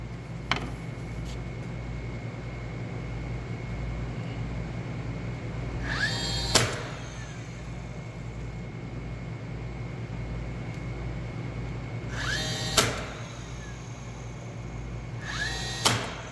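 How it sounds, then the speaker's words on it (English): A nail gun drives nails through interior trim into place. Three sharp pneumatic shots land several seconds apart over a constant low motor hum, with no voices. "I'm going to nail into place."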